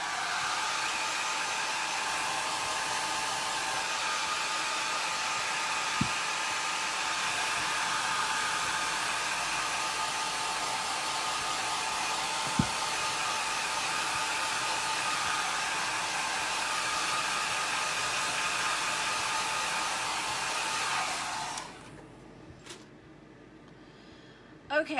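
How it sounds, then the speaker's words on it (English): A hair dryer blows steadily and close up to dry ink on a pillow, a constant loud whir lasting over twenty seconds before it shuts off near the end. "now what I'm gonna do is I'm just gonna dry it with the dryer a little bit"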